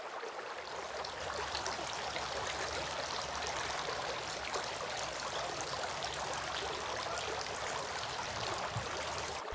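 Water running steadily from a tap during face washing, a continuous soft hiss and trickle at moderate distance with no voices.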